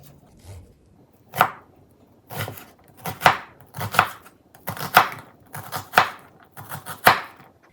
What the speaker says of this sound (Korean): 양파 아주 작은 걸 사용하는데요, 150g 정도 돼요. 일단 썰어 볼게요.